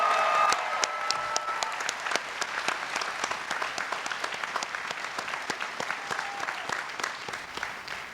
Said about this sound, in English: Let's give one final round of applause to both of our student speakers.